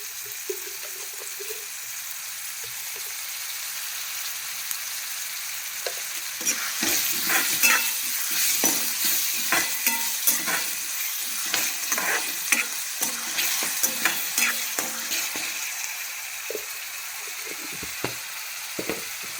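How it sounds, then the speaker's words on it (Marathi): Onions sizzle and crackle steadily in a hot pan after salt goes in, with close clattering stirring strokes growing busier midway; no voices. "कांद्यातच ना मीठ टाकतो म्हणजे कसं फटाफट भाजेल तो"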